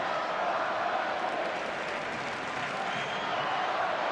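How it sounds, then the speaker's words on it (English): Cubs home crowd at a night baseball game against the Brewers, a broad, steady roar of cheering and scattered clapping filling the stadium, with no clear peaks. "Home crowd trying to get the Cubs going here."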